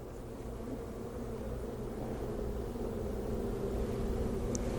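Bees buzzing near a beetle trap, a low, steady droning hum that swells slightly, close and moderately quiet with no talking.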